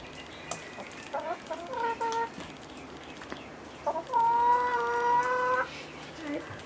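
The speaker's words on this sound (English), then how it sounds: "this hen has just randomly wandered onto our property" A hen that wandered onto a rural property clucks in short, separate calls, with a louder drawn-out squawk toward the end, close and clear over a quiet outdoor background.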